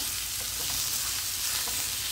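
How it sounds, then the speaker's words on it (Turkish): Eggplant and coarsely chopped peppers frying in a pan, giving a loud, steady sizzle with faint stirring scrapes throughout. "Patlıcanlarım yarı kavruldu. İçerisinde çok iri doğramış olduğum biberlerimi bir veya iki kere çevireceğim."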